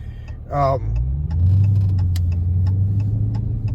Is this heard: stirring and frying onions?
no